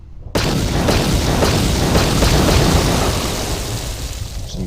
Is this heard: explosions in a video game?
yes